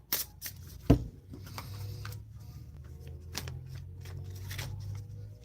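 A deck of cards is shuffled in a series of crisp riffles and sharp flicks, with one prominent snap near the start and further bursts over a quiet background hum.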